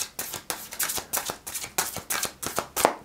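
A deck of tarot cards is shuffled close up in quick, crisp riffling bursts, a steady papery rhythm of about ten flicks with no voices.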